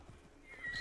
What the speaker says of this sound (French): il a même pas entendu mon cheval